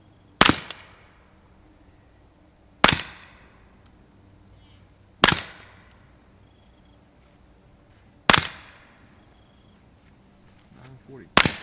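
A CZ Scorpion fitted with a Novox Research X-SD suppressed barrel fires four sharp, muffled reports, each with a quick decaying tail, evenly spaced about two and a half seconds apart with near-quiet in between.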